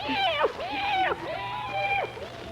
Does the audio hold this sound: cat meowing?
yes